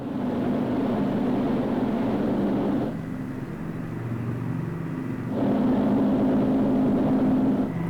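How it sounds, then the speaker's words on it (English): The restored B-29 Superfortress bomber Doc drones with a deep, steady multi-engine roar, loud and close, dipping briefly in the middle before swelling again. "B-29 Superfortress Doc is back in the air after decades of restoration"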